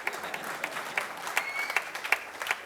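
Audience applause: a steady, moderately loud wash of many hands clapping with crisp individual claps standing out, heard alone and sustained throughout.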